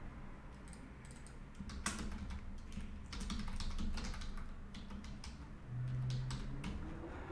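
Password keystrokes clatter on a computer keyboard, a steady run of quick clicks with short pauses, close and clear, with no talking.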